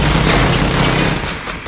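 Sustained gunfire burst in Call of Duty: Modern Warfare 2, loud and dense, a continuous rattling volley lasting under two seconds without speech.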